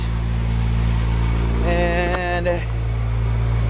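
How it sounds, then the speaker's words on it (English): A Toyota Supra fitted with an Eclipse exhaust idles too high, a steady, loud low drone that runs throughout while a person briefly talks over it. "But it's idling too high."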